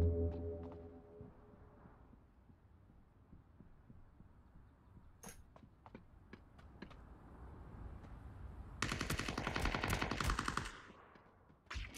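Gunfire in the video game Ring of Elysium, with scattered single shots and muffled thuds followed by a loud sustained burst of rapid fire near the end, heard over faint background ambience.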